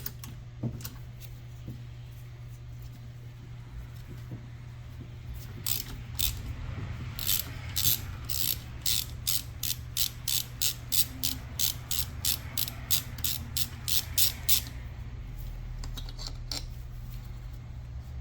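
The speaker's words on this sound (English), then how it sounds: "We'll go ahead and take the valve cover off. That's just another 10 mil." A ratchet clicks rapidly in repeated bursts as 10 mm valve cover bolts come off a Predator 670 engine, close and crisp over a low steady hum.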